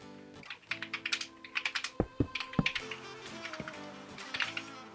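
Quick bursts of typing on a computer keyboard, close and clear, with irregular clusters of key clicks and short pauses between them, no voices.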